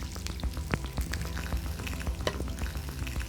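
Butter melting and sizzling in oil in a pan, ready for a salmon steak with quince, a steady close crackle running throughout with small pops and no voices.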